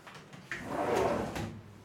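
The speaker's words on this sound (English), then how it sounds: "I just needed to open my door" A door opens indoors in one short, soft, muffled sweep lasting about a second, with quiet room tone around it and no voices.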